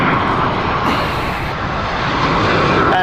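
Airliner on the Geneva flight at Heathrow Airport, a loud, close, continuous jet engine roar with broad rushing noise throughout, no talking.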